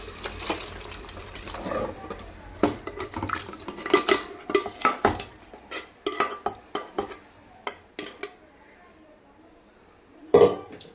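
A metal spoon clinks and scrapes against a pan as curry is added to fried spices and stirred, giving a string of close, bright taps and knocks for a goat head and trotters curry.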